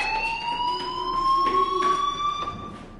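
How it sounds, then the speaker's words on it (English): A fire alarm rings steadily in a video game, with a high, continuous electronic tone that holds throughout and sits clear and fairly loud over faint background game noise. "Hey, do you hear that fire alarm?"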